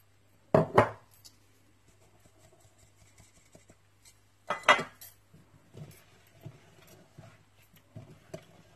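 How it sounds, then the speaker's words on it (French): Metal whisk or spoon clinking against a bowl while mixing brownie batter, a few sharp scraping knocks separated by quieter stirring sounds, close and alone. "et je mélange"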